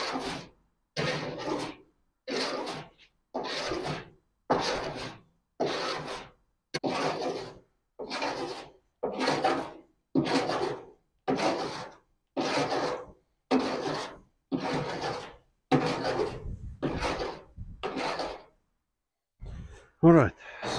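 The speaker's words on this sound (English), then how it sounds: "sand over your lead" Lead filler being sanded on a classic car roof during roof skin replacement: steady rhythmic back-and-forth rasping strokes, about sixteen evenly spaced passes, close and loud with short pauses between.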